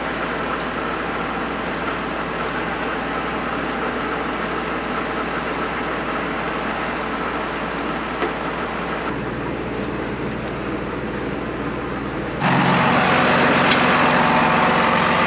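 A John Deere 4020 tractor engine runs steadily while driving, a constant low diesel drone that shifts to a louder, deeper tone near the end.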